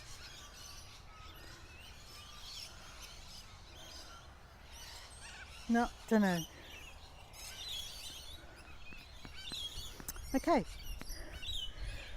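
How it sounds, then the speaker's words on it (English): An unidentified bird calls twice at a lakeside in the early morning, each call a short, bright, cat-like cry. People speak briefly around it over a quiet outdoor background. "Sounds like a cat. It's not a cat, some sort of bird."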